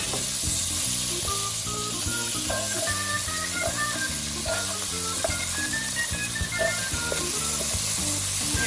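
Garlic and anchovies (bagoong) sizzle and hiss steadily in a frying pan, a constant close crackle running beneath upbeat background music with distinct melodic notes.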